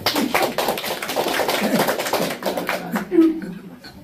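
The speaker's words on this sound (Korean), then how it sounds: "박수 한번 주시죠." A live audience at a talk on AI claps after a quiz answer, a steady patter of many hands under a presenter's voice, thinning out toward the end.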